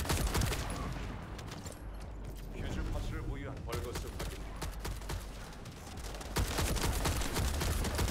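Dense gunfire in the video game The First Descendant, a busy chatter of rapid shots and bursts running throughout at steady loudness, with a voice talking over it.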